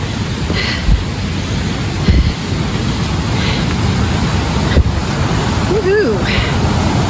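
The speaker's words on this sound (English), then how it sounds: "I hear a waterfall or thundering creek." Steady broadband rushing of water fills the clip, like a waterfall or thundering creek on a hiking trail near Coldwater Lake, Mount St. Helens, with a few brief knocks and a short whistle-like sound.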